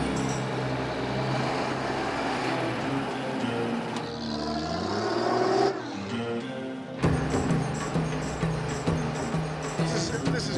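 A truck engine drones and shifts pitch from the back of the moving truck on an Iranian road, steady and close with rattling, and a brief drop partway through before the engine noise returns.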